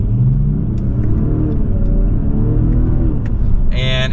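A 2023 BMW 540i with the M Sport package and about 335 horsepower accelerates in Sport Plus mode, its engine note climbing steadily as a loud, close drone heard from inside the car.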